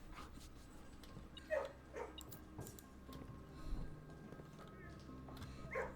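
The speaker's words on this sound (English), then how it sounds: "Puppy." Puppy in a kennel from the video game Blue Prince, giving a few soft, short yips and whimpers scattered over several seconds, quiet and fairly close beneath a low background hum.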